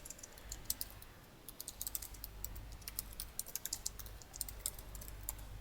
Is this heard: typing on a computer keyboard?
yes